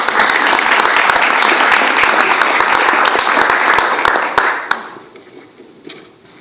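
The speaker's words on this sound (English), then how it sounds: "So please give her a warm welcome." Warm audience applause welcoming a speaker at an Organizing for Action dinner, dense crowd clapping with sharp individual claps that thins out and fades to a few scattered claps at the end.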